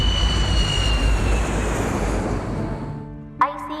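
Airliner on flight IC 814 preparing to depart Kathmandu's Tribhuvan International Airport for Delhi: a loud, steady jet engine roar with whining tones that fades out near the end, followed by a brief sharp knock.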